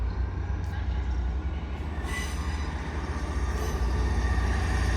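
A Northern train service to Sheffield departing Doncaster station, a deep diesel rumble and rolling wheels that build steadily, with bright wheel squeals and some talk partway through.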